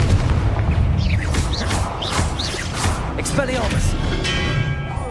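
Confringo blasting spell from Hogwarts Legacy going off amid dense game combat, with repeated booming blasts and bright magical whooshes over a continuous loud rumble.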